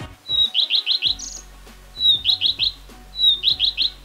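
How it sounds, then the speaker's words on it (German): A common redstart sings beside the Bischofsteich town pond, its phrases clear and fairly close: three repeated bursts, each a thin whistled opening followed by a quick run of chirpy notes, with faint low background rumble between them. "Der Gartenrotschwanz zwitschert am Bischofsteich."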